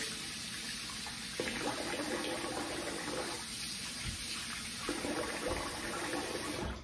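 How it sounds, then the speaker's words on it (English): Tap water runs steadily into a bathroom sink while a face is rinsed after a wet shave, a continuous close splashing wash with brief shifts in the flow. "let me rinse my face off"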